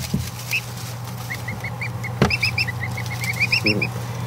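Newly hatched Muscovy ducklings or goslings peep in a warm brooder, a quick run of thin, high chirps coming in bursts, close and fairly clear, with a brief knock partway through.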